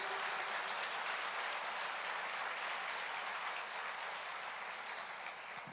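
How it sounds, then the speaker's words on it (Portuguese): A church congregation applauds in a soft, distant wash of clapping that holds evenly for several seconds before a sudden burst cuts in at the end. "Você pode aplaudir o Senhor"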